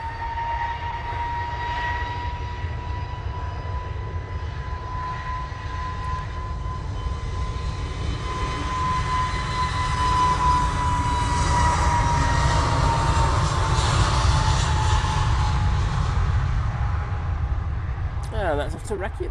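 An airliner taking off at Manchester Airport bound for Reykjavik, a steady jet engine roar that swells louder then slowly recedes, with people talking over it.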